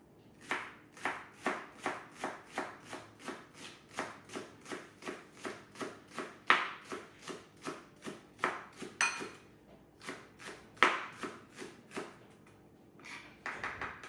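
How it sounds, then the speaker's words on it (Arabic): Onions being chopped with a knife on a board for a cheese tajine, about thirty crisp, even strikes in a brisk, regular rhythm, close and clear with nothing else behind them. "نبدا بتقطيع البصل"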